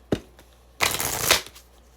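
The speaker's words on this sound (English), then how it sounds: "I shuffled my deck backwards" A deck of tarot cards being shuffled up close: a short flick, then a longer riffling, fluttering burst of cards lasting about half a second, with no talking.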